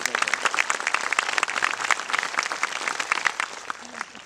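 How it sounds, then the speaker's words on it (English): An audience applauds at a city commissioners' session honoring park work, producing dense, sustained clapping from many hands nearby that holds steady for several seconds before thinning out at the end. "Let's give them all a round of applause for their work."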